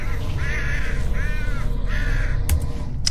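Harsh, repeated crow-like caws from the birds in the video game Flesh Birds: three drawn-out calls in steady succession over a loud background hum, followed by a couple of sharp clicks.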